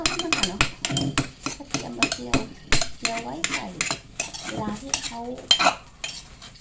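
Garlic frying in oil in a pan, stirred with a utensil, giving repeated scraping clinks and scattered sizzle bursts in an irregular rhythm, close and fairly loud, with a voice talking over it.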